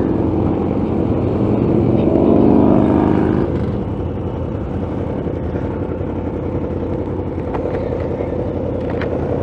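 Many motorcycles gather at a gas station in Daytona Beach, a loud continuous engine rumble that swells briefly early on, then holds as a dense steady drone.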